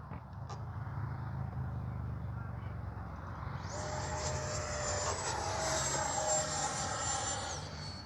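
An FMS Integral 80mm radio-controlled jet flies by: a steady distant roar swells into a high, thin turbine whine that holds, then drops away as the model passes.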